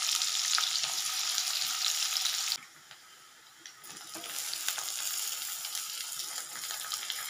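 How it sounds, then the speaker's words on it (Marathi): Onion and tomato frying in hot oil with cumin and mustard seeds: a loud, steady sizzle that briefly dips and softens midway, then returns to a constant crackling hiss, with no voices. "कांदा आणि टोमॅटो तेलामध्ये जिरं मोहरी टाकल्यात तर चरचरीत असं भाजून घेणार"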